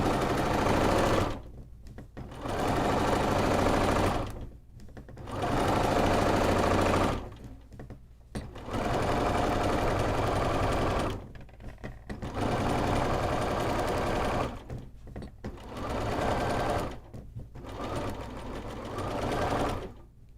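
A sewing machine stitches fabric for a bag front at a 3.0 stitch length, about 1/4 inch from the edge, in close, loud bursts of rapid whirring separated by short pauses, repeating about six times.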